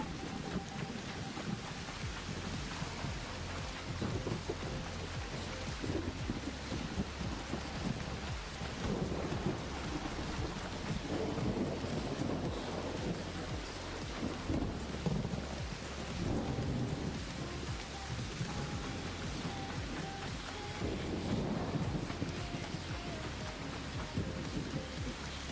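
In ARC Raiders, an electromagnetic storm rages with thunder and lightning over Topside, giving a steady wash of rain and rumble that continues unbroken throughout, moderately quiet and with no voices.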